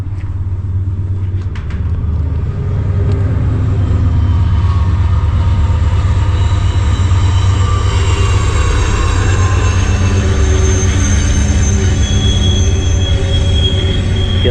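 A train rolls by loudly and close in Matewan, West Virginia, heavy low rumble with drawn-out metallic wheel squeals whining over the rails, no talking.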